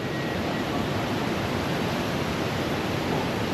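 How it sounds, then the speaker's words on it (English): Steady roar of a waterfall at close range, a dense, unbroken wash of rushing water filling the whole clip at a constant, loud level, with no voices. "now we are in the waterfall."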